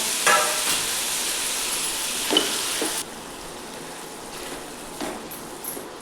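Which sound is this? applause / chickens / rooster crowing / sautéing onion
sautéing onion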